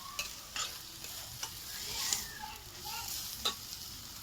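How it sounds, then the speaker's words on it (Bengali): Kashmiri chilli is sautéed in a frying pan for a snail curry, with a soft sizzle under repeated scraping stirs and clinks of the spoon against the pan, close and quiet. "এই যে কালারের লঙ্কা, কাশ্মীর লঙ্কাটা দিয়ে দেওয়া হলো। দিয়ে ভালো করে কষাবো।"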